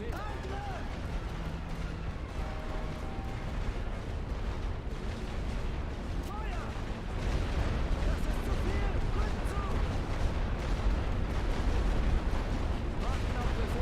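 Artillery fire in The Great War: Western Front, a World War I strategy game, booming steadily as a dense, continuous bombardment that swells louder halfway through, with voices speaking over it.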